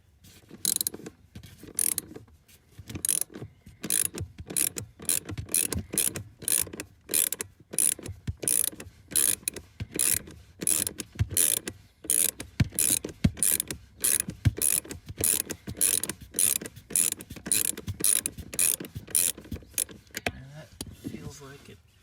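A ratchet wrench clicks steadily while turning a small 10mm bolt under the hood of a Mercedes SLK 230 with a slow throttle response; dense, rapid ratcheting bursts repeat for about twenty seconds, close and fairly loud.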